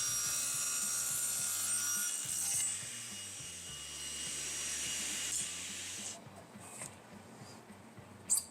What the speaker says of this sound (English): Now it's going to cut 45-degree miter